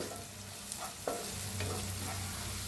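Tomato masala with turmeric, red chili powder and green chilies sizzles and fries in a pan while being stirred, a steady close hiss broken by a few soft scraping stirs, with no talking.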